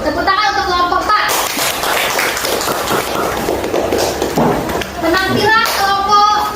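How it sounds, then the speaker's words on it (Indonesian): Classroom participants applaud a student group after its presentation, scattered clapping mixed with children's and adults' voices talking over it, fairly loud and close. "Tepuk tangan untuk kelompok 4"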